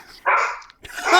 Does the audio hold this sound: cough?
no